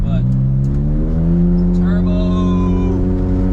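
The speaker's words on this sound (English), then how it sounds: "first gears I would say is kind of the loudest because it's just getting there up there on the RPMs and it hasn't shifted yet" A Suzuki Jimny JA11 engine revs in first gear, its pitch climbing steadily as the RPMs rise, loud and close, with someone talking over it.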